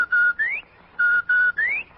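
A police whistle signal in a radio drama sounds five shrill blasts in quick groups. Some hold a flat pitch and others slide upward, and each one stands alone and clear.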